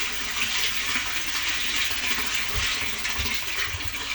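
Aeration air stones bubbling in a tank of iron-rich well water on a rural property, a steady close hiss of fizzing and splashing with faint low gurgles and no voices.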